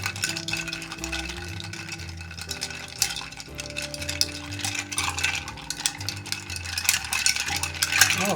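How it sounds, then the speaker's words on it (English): A Preakness cocktail stirred with a spoon in a glass of ice, rapid light clinking and rattling throughout, close and moderately quiet, with no speech. "And stir, baby, stir."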